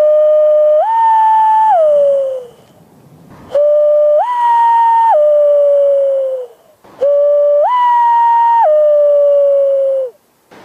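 A loon's wail imitated by a person blowing through cupped hands: three long, loud, rising-and-falling whistled wails, each holding a higher middle pitch before sliding down, separated by short breathy gaps, with no talking.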